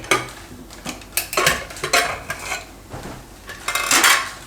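A pressure cooker holding boiled potatoes and chickpeas is opened in a home kitchen, with clattering metal lid and pot clanks and rattles in an irregular run. The sounds are close and fairly loud, with a louder burst near the end.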